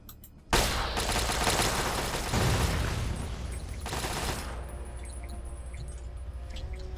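Automated turrets firing in Fallout 3, a sudden loud burst of rapid gunfire that keeps rattling without pause, then eases into a steadier, slightly softer barrage near the end.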